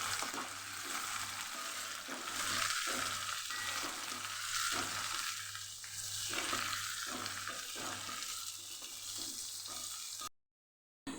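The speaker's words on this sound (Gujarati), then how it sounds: "આછો વચ્ચે આપણે હલાવી લેવાનું ઉપર નીચે ભીંડાને કરી લેવાની" Okra sizzles in a pan while being stirred for restaurant-style Kathiyawadi masala dahi bhindi, a steady hiss of frying with repeated scraping strokes of the spoon, close and continuous, ending abruptly.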